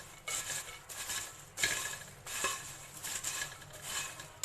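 Popcorn being tossed and mixed with melted butter in a dish, heard as faint, rhythmic rattling and clattering bursts that repeat every half second or so, with no talking.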